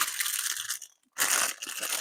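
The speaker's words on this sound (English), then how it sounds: "Let me pull that noisy paper out" Packing paper is pulled out of a parcel of resin jar molds during an unboxing, loud close crinkling and crunching in two bursts separated by a brief pause.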